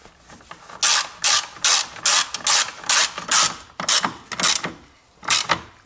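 A ratchet wrench tightens the battery hold-down bolt on a 2018–2023 Toyota Corolla, giving a rapid series of crisp, close mechanical clicks in short rhythmic strokes with brief gaps.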